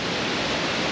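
Sailors Falls rushes in a steady, dense wash of water noise, loud and unbroken for a moment with no other sounds.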